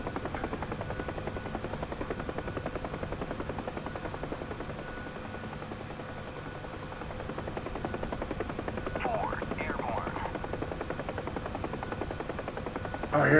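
Huey helicopter in the flight simulator DCS, its rotor chopping loudly and continuously with a fast rhythmic beat and engine whine as it lifts off, while a voice speaks briefly partway through.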